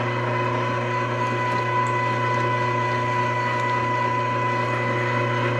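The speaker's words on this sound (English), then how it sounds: "I'm just grinding it up. And I'm going to do the same thing with the fat or the lard here" An electric meat grinder working pork and fat for homemade sausage, a loud constant motor hum with a steady mechanical whine that runs unchanged from start to finish.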